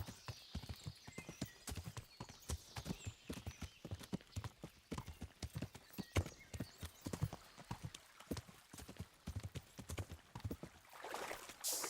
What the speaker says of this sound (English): I love the horse sounds in the water